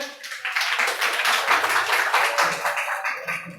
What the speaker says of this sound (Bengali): এই দুই বন্ধুর জন্য হাততালি হবে